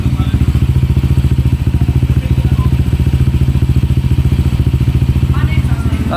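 Idling close by, a Honda Click v3 scooter with a JVT v3 exhaust pipe thumps out an even, rapid, throbbing beat that stays loud and steady for several seconds, with faint voices in the background.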